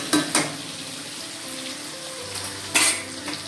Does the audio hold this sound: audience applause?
no